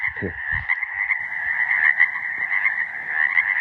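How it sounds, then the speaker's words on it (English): A dense chorus of frogs croaks continuously, a steady buzzing trill that fills the whole stretch, with a brief low thump at the start. "Frogs. Ribbit."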